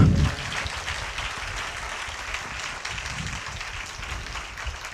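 A church congregation claps together in a steady wash of applause, moderately loud and continuous after a brief louder onset.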